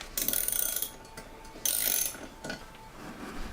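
Loose metallic clanking and rattling from a motorcycle engine, irregular knocks in a few bursts, like a wrench tumbling around inside.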